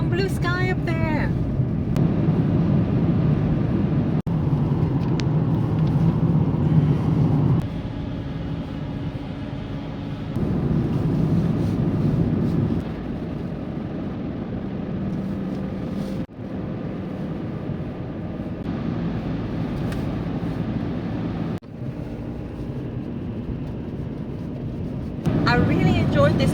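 A converted van driving along country roads among vineyards and chateaus in Burgundy, France, with a steady engine and road drone that shifts level at gear changes, under a voice talking.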